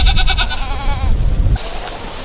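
Goats on a farm bleat loudly and close by, several wavering cries in quick succession lasting about a second and a half, then a quieter stretch of background noise.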